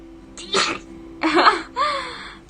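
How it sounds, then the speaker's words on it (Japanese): An odd-sounding human sneeze: three sharp bursts close to the microphone, the last with a high, squeaky pitched tail, over a quiet background. "変なくしゃみ。"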